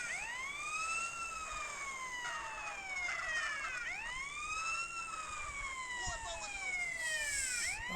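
An ambulance siren in GTA San Andreas wails in long, repeating rising-and-falling sweeps, steady and fairly loud over a faint engine hum.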